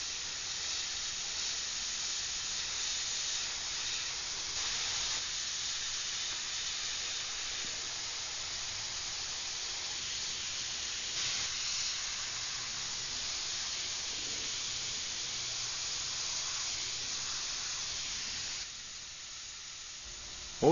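Airbrush spraying paint during portrait work on a figure, a steady soft hiss running throughout with slight variations as the spray is worked, faint and alone.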